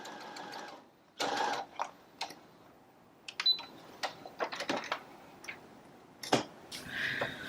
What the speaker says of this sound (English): I'm just going to sew the remaining 3 sides after I've stitched this side.